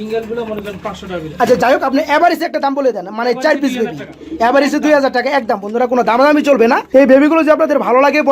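Racing pigeons coo continuously inside a cage, their throaty, warbling calls layered and close, rising and falling in rolling pulses, with a voice running over them.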